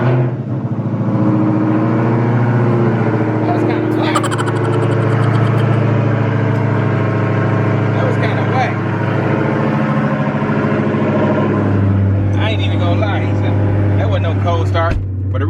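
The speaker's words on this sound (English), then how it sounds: "So let's get a quick little cold start." Jeep JL Wrangler engine cold-starting close by and settling into a steady, loud muffled idle with rumble, the tone shifting near the end, while people talk over it.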